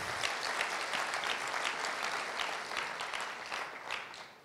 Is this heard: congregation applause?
yes